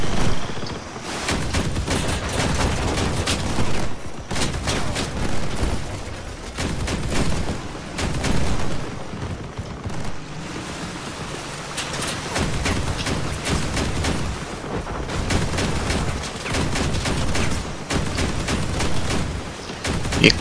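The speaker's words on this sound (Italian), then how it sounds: "quando colpisce questo cannone automatico sono danni ben mirati" Autocannon firing in the vehicle combat game Crossout, loud rapid bursts of repeated shots in dense volleys with short pauses, continuing for the whole stretch alongside other gunfire and booms, no talk.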